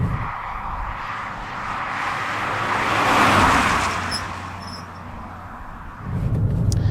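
Engine of a Fiat Panda 100HP hatchback responding to the throttle in normal mode, a steady broadband drone that swells to a peak mid-clip, eases off, then rises again near the end, heard from inside the car with no talk.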